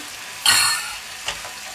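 Cherry tomatoes hitting a hot pan of pork curry with coconut give a sudden loud sizzle that fades over about half a second, followed by a smaller hiss as they are stirred.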